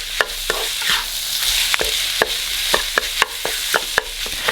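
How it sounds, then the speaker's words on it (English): Ground meat and vegetables sauté in a pan for spaghetti. A spatula scrapes and taps the pan at an irregular rhythm, about a dozen clear knocks, over a bright, steady sizzle up close. "Break up the meat and then saute this for about 5 minutes or until you no longer see any pink."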